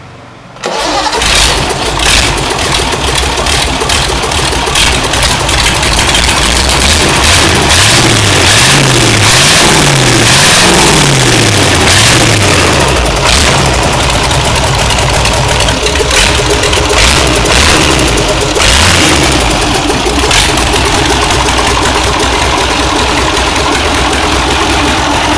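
A 1960s Perkins V8 diesel, 8.4 litres and 170 horsepower, fitted to a Fordson Major tractor, cranks and fires up, then settles into a loud, steady run with several revs rising and falling, heard alone throughout.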